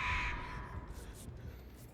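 A crow caws in the horror video game Dead by Daylight, a loud harsh call at the start that fades under steady game ambience.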